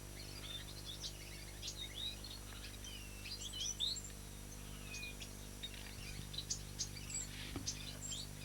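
Six fostered waxbill birds chirping and tweeting in a steady, busy chorus of short, high calls, fairly close, with a faint insect-like trill and low background hum beneath.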